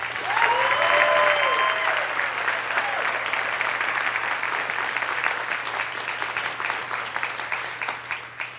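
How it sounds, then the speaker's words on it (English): Sustained audience applause for Granger at an education fundraising dinner, a full, dense wash of many hands clapping that starts strongest and slowly thins over about eight seconds, with faint voices and a brief tonal sound early on. "So can we please, round of applause for Granger."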